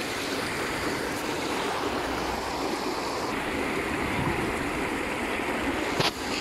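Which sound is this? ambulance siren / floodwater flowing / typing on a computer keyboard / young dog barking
floodwater flowing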